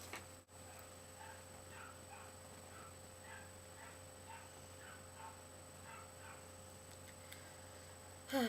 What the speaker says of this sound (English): Puppy's still barking at the cat.